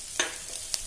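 Ginger and turmeric fry in hot oil with a soft steady sizzle, broken by two sharp metallic taps of a spoon against the pan.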